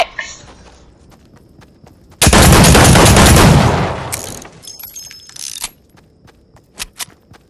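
Gunfire in Fortnite: a loud, dense burst of automatic shots lasting over a second, then scattered sharp single cracks and mechanical clicks, with no talk.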